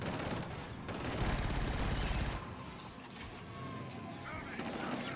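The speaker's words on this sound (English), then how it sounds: "Who the hell's shooting me?" Enemy gunfire in Killzone: Shadow Fall, rapid bursts of automatic shots crackling at moderate distance amid a dense, noisy battle soundscape.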